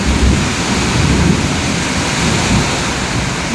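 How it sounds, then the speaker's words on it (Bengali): Heavy monsoon rain pours down with thunder in Bengal, a dense, loud, unbroken roar of downpour and deep rumbling throughout. "দেখো জোর বৃষ্টি নেমে গেল"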